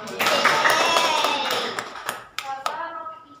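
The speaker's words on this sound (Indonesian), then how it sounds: "Berikan tepuk tangan." Students in an Indonesian classroom clap together during a civics lesson on group deliberation, a burst of brisk clapping mixed with voices that fades into a few scattered final claps.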